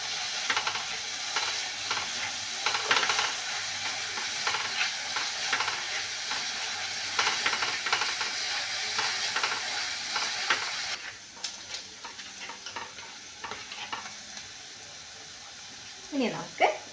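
Onions frying in a pan for egg gravy, stirred with a spoon: a steady sizzle with repeated scraping strokes, under a voice talking throughout.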